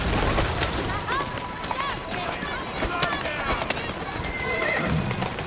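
Horse hooves clip-clopping at a run with whinnies in the Assassin's Creed Syndicate video game, rhythmic hoofbeats under street bustle and a loud neigh, with someone talking over it.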